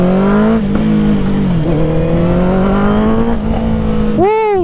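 Honda CBR650R with a Black Widow full exhaust is held at a loud, steady high rev close by, then snaps sharply up and drops back down in a quick throttle blip near the end.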